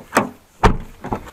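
A car door on a Toyota Corolla AE101 makes three short, close mechanical clunks in quick succession, the middle one the heaviest, with quiet gaps between them.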